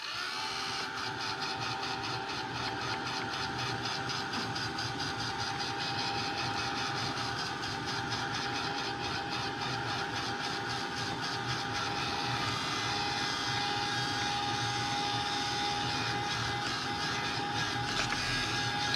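A heat tool blows steadily over a craft stamping surface as it dries, giving a constant loud whirring hum that runs unbroken from start to finish with no talk.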